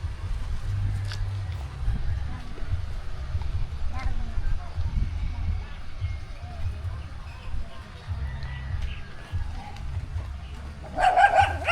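Several dogs bark in short bursts and yips outdoors while people talk over them, with the barking scattered across the scene and a louder cluster of barks at the very end.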